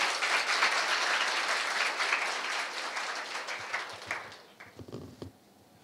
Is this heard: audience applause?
yes